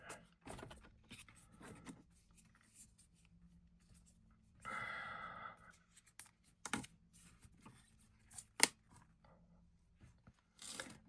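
A scrap strip of card left over from an A4 sheet is cut for card making, giving one short, crisp swishing cut among scattered light clicks and taps in a quiet room.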